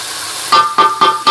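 Biryani ingredients sautéing in a pan, a steady sizzle under a faint whine that swells into three short stirring bursts near the end.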